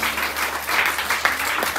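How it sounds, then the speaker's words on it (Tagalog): Congregation at a Macau prayer group meeting breaks into hearty applause in praise, a continuous, busy clatter of many hands with a few sharper claps standing out. "Palakpakan natin si Yahweh al-Shaddai."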